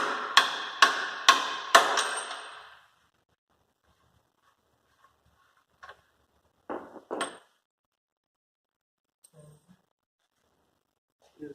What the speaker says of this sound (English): whack on the nut.